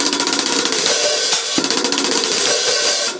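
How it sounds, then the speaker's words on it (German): A 13-inch Thomas Lang Fast Hat hi-hat played in a rapid, steady pattern of crisp, sizzling strokes with a few accented hits, close and loud for about three seconds. "Dann habe ich hier die Thomas Lang 13 Zoll Fast Hat."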